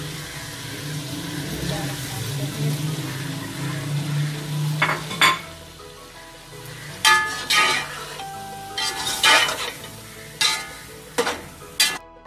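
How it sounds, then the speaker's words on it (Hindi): Masala for chickpea biryani fries and sizzles in a pot, with a steady hiss at first and then a series of sharp metal spoon scrapes and clinks against the pot at irregular intervals, close and prominent. "अपना मसाला भून लेंगे।"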